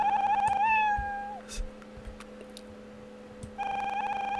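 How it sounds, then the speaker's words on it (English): Cartoonish cat meow sound effect from a Scratch game, triggered by mouse clicks: one sustained rising meow, a pause with faint clicks, then another meow starting near the end, clear and fairly loud. "when I click on something on the screen, not only that I have the meow sound"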